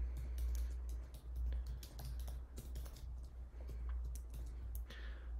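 Close, steady typing on a computer keyboard as VBA code is entered, with rapid irregular key clicks running continuously and no talking.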